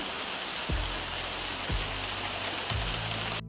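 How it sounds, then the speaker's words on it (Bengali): Steady, dense rain hiss fills the whole stretch, with a few low thuds recurring about once a second beneath it. "জোরে বৃষ্টি চলে এসছে তবে যাই হোক ওয়েদারটা খুব সুন্দর লাগছে"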